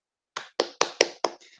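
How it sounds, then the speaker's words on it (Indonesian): Five sharp hand claps ring out in an even rhythm, close and clear in a quiet classroom, the last one softer. "Boleh berikan tepuk tangan untuk Cynthia?"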